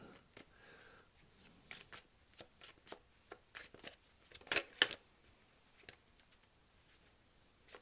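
Scrying Eye Oracle card deck being shuffled, with soft repeated riffling and flicking taps in a quiet room, a brief louder flurry of cards near the middle.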